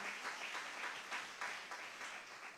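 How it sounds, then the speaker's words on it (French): A church congregation applauding while seated, a steady wash of many hands clapping at moderate distance, sustained and fairly soft with no voices on top. "acclame-le en restant assis"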